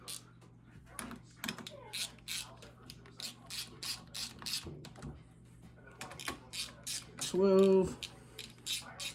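Ratchet clicking as head bolts are snugged in torque sequence on a 1997 Arctic Cat ZRT 600 snowmobile engine, short bursts of fine clicks repeating at close range, with a person briefly speaking.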